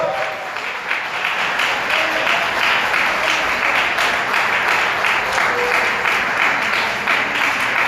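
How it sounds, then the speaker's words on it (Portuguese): A church congregation applauds loudly, a dense, continuous wash of clapping that holds steady from start to finish with little else audible. "Vamos aplaudir bem forte ao nosso Senhor."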